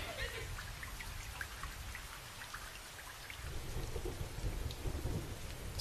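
Steady heavy rain with rumbling thunder underneath, a continuous downpour that swells louder in the second half, with no voices over it.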